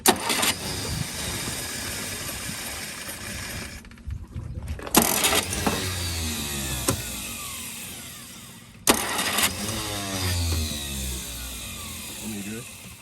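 A 1951 Studebaker engine cranks and catches twice in close succession, each start rising into a rough mid-pitched idle with a little throttle, close and loud, while people talk briefly over it.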